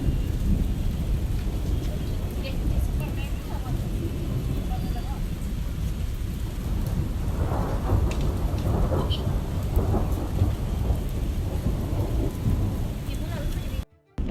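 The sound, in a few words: rain and thunderstorm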